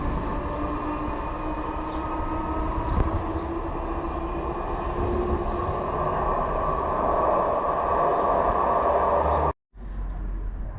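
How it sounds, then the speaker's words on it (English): A Southern train pulls into a station on the West Coastway line in West Sussex, with a loud, steady rumble, wheel squeal and a close, continuous roar that cuts off abruptly near the end. "now arriving is our train"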